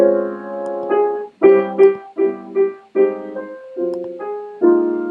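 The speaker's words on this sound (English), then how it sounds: "But the left-hand voicing can be very different." Another take on a standard on jazz piano, the melody unchanged over a different left-hand chord voicing: rich sustained chords and struck melody notes in a relaxed, slightly uneven rhythm, close and without speech.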